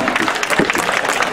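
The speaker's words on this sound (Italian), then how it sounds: "un bel applauso a tutti quanti" Short burst of clapping from a small group at an Italian couples' contest event, uneven hand claps mixed with murmuring voices, close and moderately loud.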